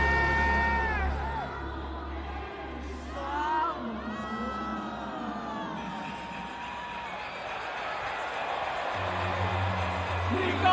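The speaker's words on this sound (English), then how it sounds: "there's way more crowd noise than Kai Cenat gave" A huge stadium crowd roars steadily at a Super Bowl halftime show, a dense continuous wash of cheering under loud live music and vocals.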